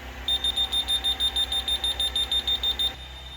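A rapid series of about sixteen short, high electronic beeps from a home alarm system arming sounds evenly over steady background hum, then stops.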